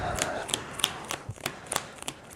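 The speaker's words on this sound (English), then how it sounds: "And then grab the deck. Shuffle it back up." A deck of board game cards being shuffled by hand, a close run of crisp riffling snaps and soft slides in an uneven rhythm, with no talk over it.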